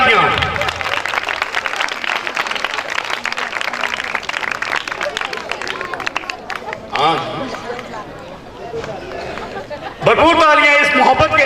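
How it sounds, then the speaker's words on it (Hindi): A crowd at a township church program applauds in loud, dense bursts that swell and fade, with babble and voices mixed through the clapping. "भरपूर तालियां इस मोहब्बत के लिए, इस प्यार के लिए भरपूर तालियां"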